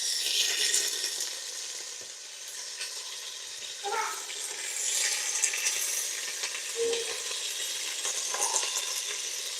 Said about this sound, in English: and let it get to sizzling.